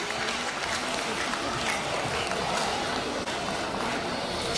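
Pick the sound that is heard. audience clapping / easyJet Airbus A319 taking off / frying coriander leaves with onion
audience clapping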